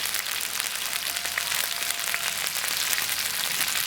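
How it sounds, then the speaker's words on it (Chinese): Pork and pickled cabbage stir-frying in oil in a wok give off a steady, close crackling sizzle with soft hiss throughout, and no voices. "好，给它炒一下。"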